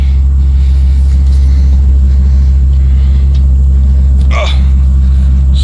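A truck rumbles steadily along a rough road, with a deep continuous engine drone and a brief jolt or clatter near the end, loud and close throughout.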